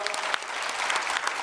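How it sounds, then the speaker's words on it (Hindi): Dense, sustained audience applause from a crowd at a Patanjali event in Bangalore, steady clapping throughout with no break. "इस लड़के के लिए बहुत बहुत ताली बजाओ"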